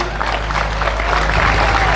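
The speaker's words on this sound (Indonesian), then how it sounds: "tepuk tangan untuk para kepala desa yang hebat ini" Audience applause for village heads at an evening gathering, a steady wash of clapping over a low hum, moderately loud throughout.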